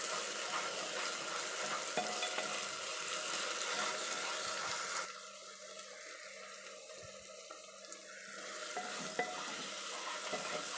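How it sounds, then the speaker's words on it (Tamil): Ginger garlic paste sautéing in a pan for a Hyderabadi chicken gravy, giving a steady broadband sizzle that eases and quiets for a few seconds midway before picking back up, with no talking. "இஞ்சி பூண்டு பேஸ்ட்டு சேர்த்து அதனுடைய பச்சை வாசனை போக நல்லா வதக்கிக்கலாம்"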